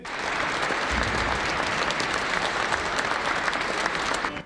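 Cardinals applaud in the Sistine Chapel right after the election of Robert Prevost as the new pope, a dense, steady wash of clapping that fills the hall from start to finish.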